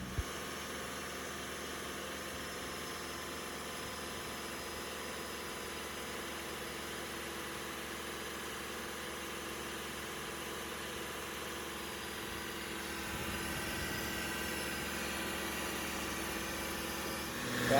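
Car engine held at a fast idle of about 2000 RPM with a fast idle device fitted, a steady continuous hum and vibration, fairly quiet and unchanging, rising slightly toward the end.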